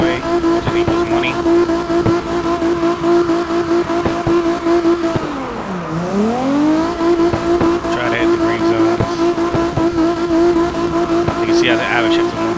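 A drift car in CarX Drift Racing Online roars at a steady high rev, then its pitch dips and climbs back mid-clip as it shifts gears, with tire squeal and a player talking over it.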